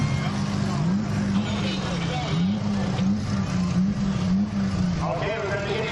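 Race car engines drone and rev steadily nearby at a country fair, with rising and falling pitch, under constant talking voices.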